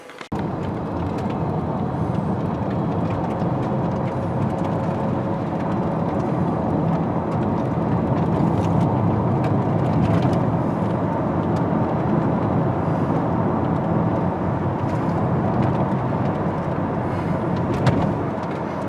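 Steady engine and road noise inside a 2013 Nissan Altima SV with transmission problems, heard while it is driven. A constant broadband rumble holds at an even level throughout, with no talking.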